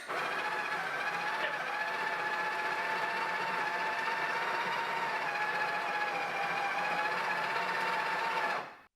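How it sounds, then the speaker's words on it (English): A Breville Barista Express with a built-in grinder grinds coffee beans in one continuous, close, high-pitched mechanical whir that holds steady for about nine seconds, then stops abruptly. "Grinding is super simple. Just press the portafilter against the button."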